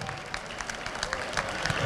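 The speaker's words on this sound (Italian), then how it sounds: "Rocco e Lucia, un grosso applauso." Audience applause for a pair of professional dancers at a local Italian event, a dense steady patter of clapping continuing throughout, moderately loud with faint voices underneath.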